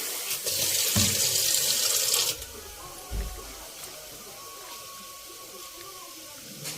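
Running water pours steadily for about two seconds, then gives way to quieter splashing and sloshing as rice is rinsed in a bowl.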